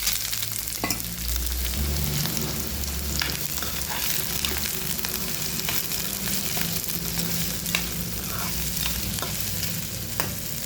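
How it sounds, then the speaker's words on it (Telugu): Onions and green chillies sizzle and fry in a pan with eggs for an egg-tomato curry, a steady close crackle broken by the scrape of occasional stirring, with no voices. "కొంచెం వేగిన తర్వాత ఉల్లిపాయలు పచ్చిమిర్చి వేస్తాం."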